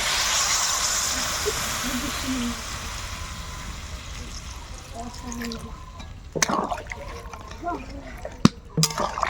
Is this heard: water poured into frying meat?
yes